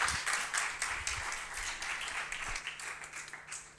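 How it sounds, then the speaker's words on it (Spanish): A lecture audience applauds as Mario, the speaker on the history of classical music instruments, is introduced. The clapping is brisk and fairly close, with dense overlapping claps and a few soft thuds, and no one talks over it. "un aplauso, por favor,"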